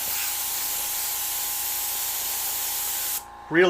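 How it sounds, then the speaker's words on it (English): An airbrush sprays paint in a steady, close, continuous hiss that cuts off abruptly near the end, followed by a brief rising squeak. "I can switch to the airbrush"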